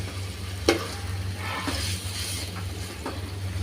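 Rui fish with beans, potato and greens being stirred in a pan, giving a soft continuous sizzle with a few sharp scrapes and knocks of the spatula, close up and quiet, with no talk.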